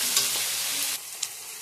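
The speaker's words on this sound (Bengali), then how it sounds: "কুচিয়ে রাখা রসুন, আদা কুচি, পেঁয়াজ কুচি, টমেটো কুচি সব একসাথে দিয়ে ভালো করে ভেজে নিচ্ছি" Chopped onion, tomato, green chilli, garlic and ginger fry in hot oil with a loud, dense sizzle that softens slightly partway through, with a stirring scrape or two.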